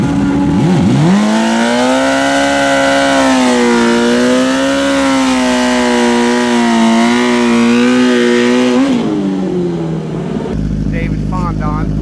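A 2020 BMW S1000RR superstock motorcycle screams through a drag racing pass, its high-revving engine loud and close with rising and falling pitch through gear changes, then cutting off near the end as other track noise takes over.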